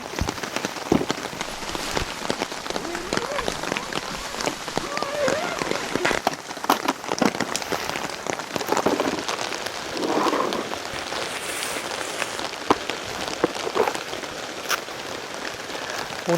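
Heavy rain drums steadily on a car and a one-touch tent during solo car camping in a downpour, a dense continuous patter with occasional louder drops close by, heard alone without talk.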